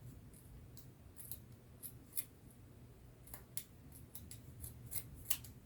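Scissors trim the end of a ribbon on a craft sign made from tumbling-tower wooden blocks, giving about a dozen quiet, crisp snips scattered irregularly over a soft background hum.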